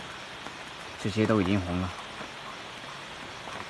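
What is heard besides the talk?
rain falling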